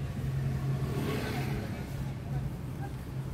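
A Tata Punch Accomplished car engine idling steadily during a vibration check, a low continuous hum with faint background murmur.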